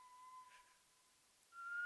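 A person whistles in a TV crime drama scene, a thin, steady held note that is fairly faint, then jumps to a slightly higher pitch near the end.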